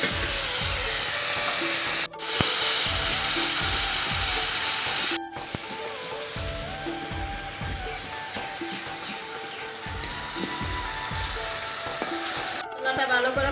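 Spice paste of turmeric, salt and a little water fries in hot oil for a vegetarian potato dish, sizzling and hissing loudly and continuously, with scraping stirs and a louder steamy surge early on.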